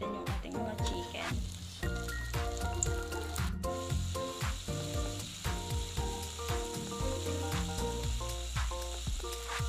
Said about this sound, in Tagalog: Kumukulo na yung ating mantika, so ilalagay na natin yung ating mga chicken.